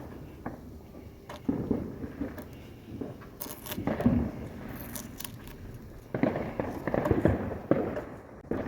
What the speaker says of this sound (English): so if you hear it popping in the background, it's fireworks